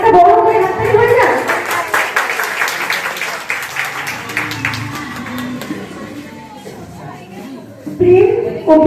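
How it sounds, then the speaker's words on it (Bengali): Audience at a Saraswati Puja cultural programme clapping for the performers, a sustained round of dense applause that gradually thins out while a voice talks over the clapping. "তাহলে এই এত বড় বড় শিল্পীদের জন্য আরেকটা বড় করে হাততালি হয়ে যায়।"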